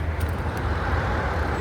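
Rush hour road traffic, a steady dense roar of passing cars and buses with low engine rumble and faint air brake hiss, continuous and close.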